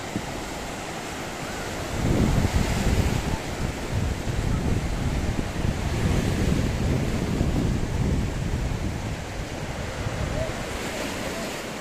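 Continuous rush of Black Sea waves washing onto the shore at Atakum, Samsun, with gusty wind noise buffeting the microphone, steady and fairly loud throughout.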